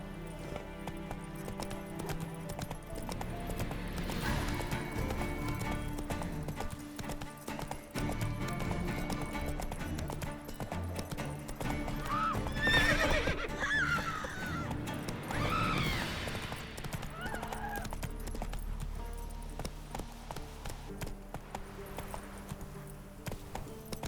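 Roach the horse galloping in The Witcher 3: Wild Hunt, a steady rhythmic clip-clop of hooves carrying on throughout with a neigh partway through, under a continuous layer of background game sound.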